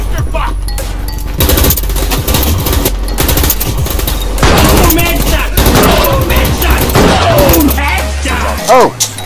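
Dense automatic gunfire and rapid shots fill a World War 3 video game firefight, loud and continuous with bursts layered over one another, while a player talks briefly near the end.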